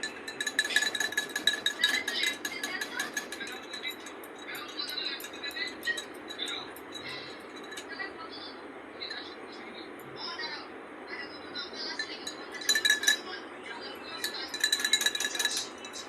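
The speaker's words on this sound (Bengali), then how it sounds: "সবগুলোতে আমি ভালো করে ঘেঁটে নিলাম, যাতে মিচিরিটা ভালো করে গুলে যায়" A spoon clinks and scrapes against bowls while stirring soaked kathila with mishri, light intermittent metallic taps that cluster at the start and again near the end, fairly close and quiet.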